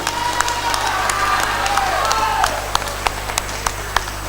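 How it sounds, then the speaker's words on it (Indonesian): Audience applause for the candidates at a 2015 Ketapang regency head and deputy public debate in West Kalimantan, a dense crowd clapping and cheering in a hall with a steady hum beneath, sharp individual claps standing out as it tapers. "mari kita sama-sama berikan tepuk tangan yang meriah kepada keempat pasangan kandidat kita"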